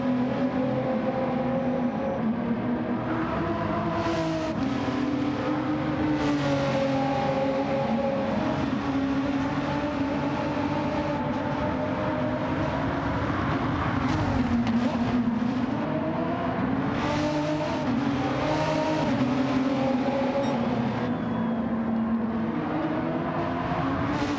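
Renault RS01 race cars lapping a circuit in a racing series, engines roaring steadily throughout with rising and falling revs as cars pass, loud and continuous with no talk.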